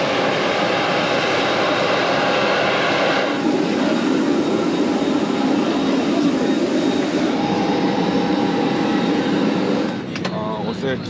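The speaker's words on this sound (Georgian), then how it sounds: "აი ჩვენი თვითმფრინავიც გამოჩნდა." An airliner arrives at the airport with a loud, steady jet engine roar that fills the whole stretch and eases slightly near the end, with people talking underneath.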